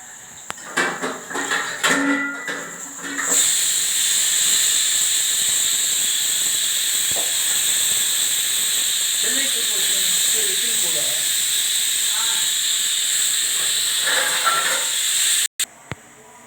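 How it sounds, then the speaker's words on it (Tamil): A pressure cooker whistle releasing steam while cooking porridge at home, a loud, steady high-pitched hiss that starts a few seconds in and holds for over ten seconds, with people talking before it begins and under it. "கஞ்சி விசில் வந்துருச்சு"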